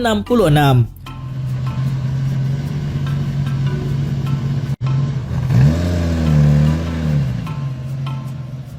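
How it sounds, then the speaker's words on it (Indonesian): A 1966 Lamborghini Miura, the mid-engine supercar, drones with a steady low engine note that swells into a revving rise and fall near the end, loud and close, with a voice speaking over it at the start. "Lamborghini Miura 1966."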